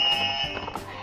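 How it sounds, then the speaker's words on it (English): A Learning Resources lights-and-sounds toy buzzer gives a short, bright electronic alarm tone, loud and close, fading after about a second. "They are from Learning Resources, and inside you get 4 fun buzzers."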